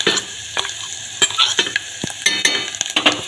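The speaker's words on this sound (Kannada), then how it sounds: "ಮಸಾಲೆ ಎಣ್ಣೆ ಒಳಗೆ ಅದೇ ಫ್ರೈ ಮಾಡ್ಕೊಡೋಣ ರೀ." Ground red masala fries in hot oil for Karnataka majjige sambar, a bright close sizzle with quick irregular scrapes and taps of a spoon stirring it in the pan.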